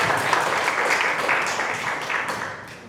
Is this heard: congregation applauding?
yes